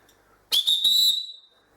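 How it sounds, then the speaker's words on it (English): A group leader's handheld whistle gives one sharp, shrill blast lasting nearly a second, close and loud, then tails off into quiet. "Well, again, I've got my whistle."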